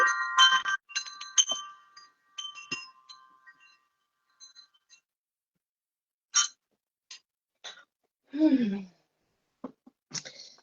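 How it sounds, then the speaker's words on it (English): Clearing chimes set down gently, giving a few bright metallic rings and clinks that fade, followed by sparse soft taps and a short voice-like sound. "I'm going to put our clearing chimes down gently"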